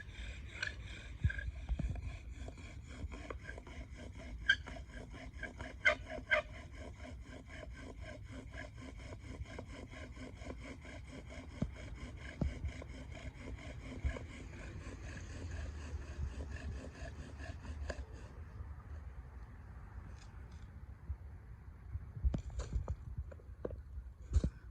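A bow drill spins on wood to make an ember, a steady back-and-forth rasping of wood rubbing on wood continuing rhythmically for a long stretch, then slowing and stopping near the end.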